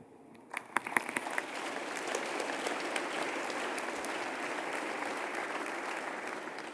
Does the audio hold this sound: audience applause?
yes